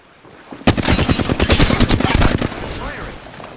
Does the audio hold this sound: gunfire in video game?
yes